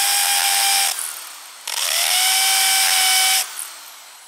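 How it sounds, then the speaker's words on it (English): A hammer drill whines loudly in two long bursts with a short pause between, the motor pitch rising as each run starts. "Let me hook up this new drill,"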